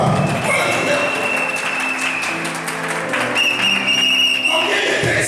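A church congregation applauds and cheers during a sermon, the clapping dense and continuous for several seconds before cutting off near the end.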